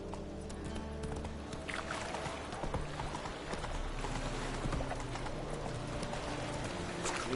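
Roach the horse gallops in The Witcher 3 video game, a steady clip-clop of hooves running continuously over a busy game soundscape for several seconds.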